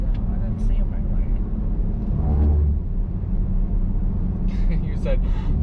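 A Jeep speeds down a back road at around 70, its engine and road rumble forming a steady, loud low drone with people talking over it inside the cabin.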